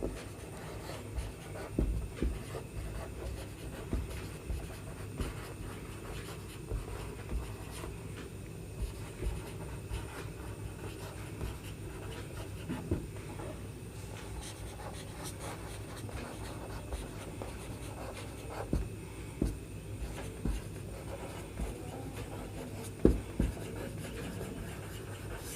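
Pen scratching out a maths solution on paper for a class 10 sphere problem, faint intermittent strokes and taps over a steady low background hum, no talking.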